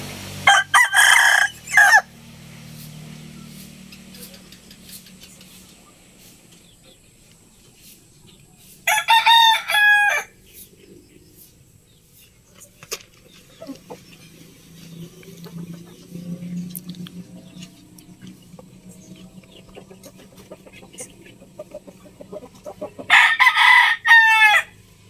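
Fighting cocks from Cobra lines in Mindoro crow in three loud separate bursts, with softer clucking and low scuffling between them.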